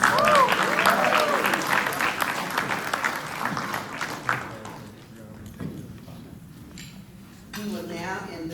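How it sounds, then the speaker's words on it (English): A crowd at a ROTC Hall of Fame ceremony applauds its honorary members, a dense burst of clapping with a few voices mixed in that holds steady for several seconds before thinning out to scattered claps. "Let's give our honorary members a congratulatory round of applause"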